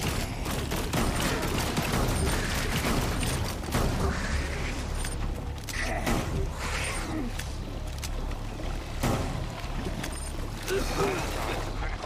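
Dense gunfire and combat noise in the Xbox Series X game Rainbow Six Extraction, with steady loud bursts and mechanical clatter running without pause for the whole stretch.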